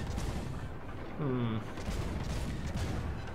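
Warship main guns firing in World of Warships, heavy booming blasts with a low rumbling tail, heard close alongside a voice talking.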